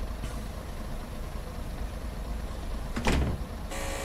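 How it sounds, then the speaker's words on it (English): Train doors closing in Train Sim World 4 on the Blackpool Branches, Preston to Ormskirk service: a sharp mechanical thud and rattle near the end, over a steady low idling hum, followed by a brighter hiss. "Close the doors"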